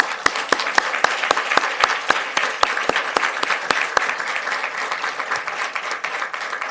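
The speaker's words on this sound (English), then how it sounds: "everyone, give them an applause" Steady applause from a room full of people, many hands clapping in a dense, continuous patter that holds for several seconds.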